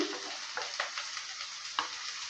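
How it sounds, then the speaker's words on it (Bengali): Small-cut potatoes and onion stir-fry in a pan, a soft even sizzle punctuated by a few brief spatula scrapes, fairly quiet throughout. "আলুটা দেওয়ার পর ভালো করে আবারও নেড়ে নিচ্ছে"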